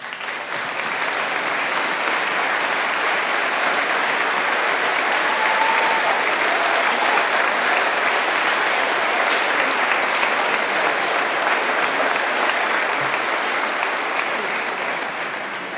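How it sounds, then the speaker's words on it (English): Sustained audience applause at a La Salle High School graduation ceremony as parents, guardians and caretakers stand, a dense, steady wash of clapping from a large crowd that holds evenly for about sixteen seconds. "please stand for a round of applause at this time"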